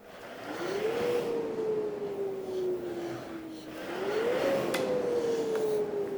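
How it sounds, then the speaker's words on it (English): A rowing machine flywheel spools up in two stages: a rising whir that slowly settles, then climbs again with the next pull. The tone is smooth, moderately loud and close, with no talking. "And eventually you add more motion as the flywheel starts to spool up."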